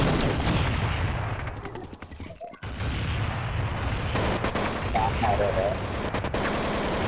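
Rapid gunfire in Counter-Strike 1.6 during a tournament match, dense loud bursts of shots filling nearly the whole stretch with a brief lull midway, mixed with game noise and voices.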